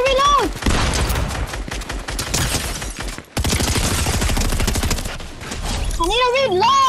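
Fortnite gunfire: rapid, loud bursts of shots in two long sustained volleys separated by a short pause, with a voice speaking briefly at the start and end.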